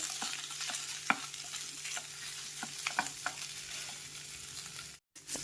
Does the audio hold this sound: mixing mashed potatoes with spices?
yes